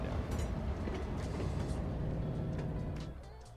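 A train in the city-building game Cities Skylines 2 rumbles past with a steady low, rolling drone and faint clatter, holding level before easing off near the end.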